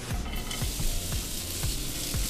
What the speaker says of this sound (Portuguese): A gente coloca a cebola